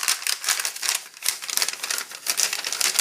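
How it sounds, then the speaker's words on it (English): A 2004 military MRE package for jambalaya with ham and shrimp being torn and worked open by hand, giving repeated close, crisp crinkling and ripping bursts of plastic packaging with no talking. "Let's see if I can get inside that envelope."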